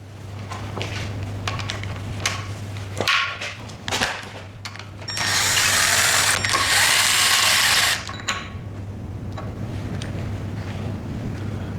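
A ratchet fitted with an E14 socket works on a Mini Cooper S R56 engine, giving bursts of close mechanical clicking and whirring that build to a dense, loud run in the middle before trailing off over a steady low hum.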